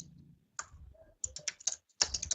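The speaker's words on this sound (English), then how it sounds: "I used my keyboard's up and down arrows" Up and down arrow keys on a computer keyboard are pressed in a quick irregular series of crisp, close clicks and taps, some in tight clusters, with quiet gaps between them.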